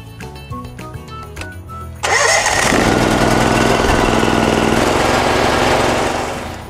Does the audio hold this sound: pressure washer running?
yes